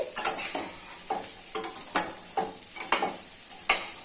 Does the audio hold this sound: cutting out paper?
no